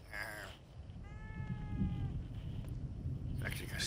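A cat meows once in the horror video game The Evil Within, a short harmonic cry over a low rumbling game ambience.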